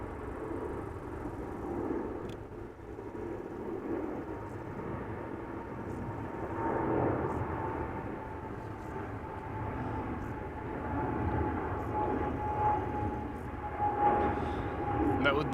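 Distant Emirates Boeing 777 taking off at Amsterdam Schiphol Airport, a steady far-off jet roar with a faint tonal whine that swells gradually, while people talk over it.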